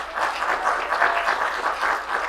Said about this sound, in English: Can you give them applause?